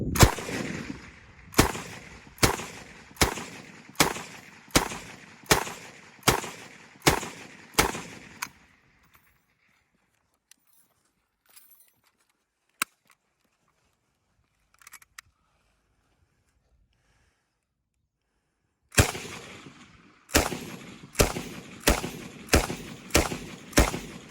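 Machine gun fire rings out at an army shooting match on a 400–500 m range: a rapid, regular string of loud reports, several seconds of near silence with a few faint pops, then another burst.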